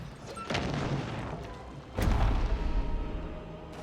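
Trebuchet shots striking targets in an Age of Empires game, two heavy, booming crashes about one and a half seconds apart, the second louder and deeper, each followed by a rumbling decay over steady game ambience.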